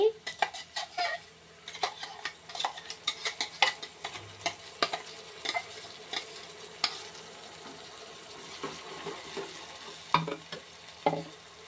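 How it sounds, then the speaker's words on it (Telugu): Tomato puree going into a sizzling pan of sprouts and cauliflower curry, with a steady frying hiss under repeated metallic clinks and scrapes of a spoon stirring against the pan. "ఇప్పుడు టమాటా ప్యూరీ వేద్దామండి."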